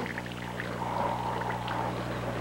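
A tablespoon of soy sauce is poured into a cooking pan, a brief, quiet liquid trickle over faint background hum.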